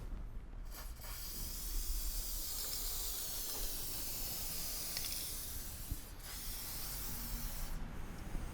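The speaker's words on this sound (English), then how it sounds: "Now I can spray the top parts that I haven't gotten around to." Lubricant sprays onto the parts of a home car lift in a steady, close hiss that runs almost without a break, with a few brief pauses and faint clicks, and no talking.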